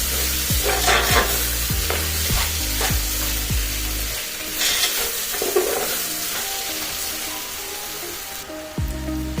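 Rice frying in a hot tempering for tomato avarekalu bath, a spoon stirring it in repeated scraping strokes over a steady sizzle, no talking.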